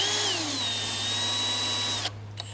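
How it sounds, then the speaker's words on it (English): A power drill whirs loudly and steadily, its pitch sliding as it bites into material, then cuts off abruptly near the end, with small clicks after. "start to drill into the base just so we can get our holes marked"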